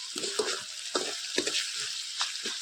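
Ginger-garlic paste sizzles in a pan for a Malvani dried bombil fish curry, with soft frying hiss and repeated scraping stirs of a spoon, close and fairly quiet.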